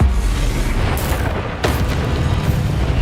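Fire spell Incendio cast in the Hogwarts Legacy video game, a loud booming burst with a sharp swell near the middle over a dense, continuous rumbling roar.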